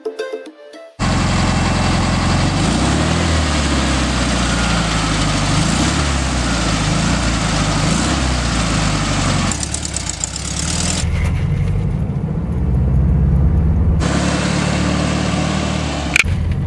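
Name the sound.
1972 Volkswagen Super Beetle engine driving away from gas station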